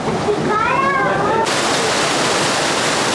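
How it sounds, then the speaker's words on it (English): Steady, loud rush of waterfalls at Disneyland Paris fills the whole clip, with a brief high animal-like cry or squeal over it early on. "So many waterfalls."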